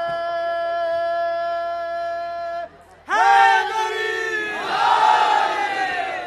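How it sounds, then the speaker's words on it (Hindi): A large crowd at a Muharram majlis gathering chants a durood slogan in unison to welcome a speaker, loud massed voices rising in a drawn-out call after a sustained held tone, then a broad swelling roar. "नारे दुरूद से इस्तक़बाल फरमाएँ।"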